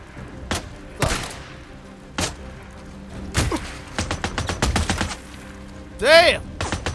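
Gunfire rings out in the video game Days Gone, loud single shots followed by a rapid burst of repeated shots, with sharp impacts and a whooshing sweep near the end, while a player talks over the action.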